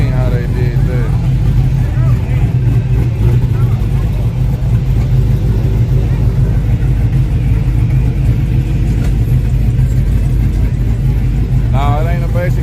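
Loud, rough idle and throttle blips from a car with a fuel-injected LT4 V8 engine, a deep rumbling drone lasting throughout with people talking over it.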